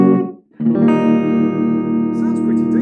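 A Squier Affinity budget electric guitar rings out a sustained chord after a short pick attack. The tone is clean and harmonically rich, close and steady, with one brief dip before it settles into a long, even ring.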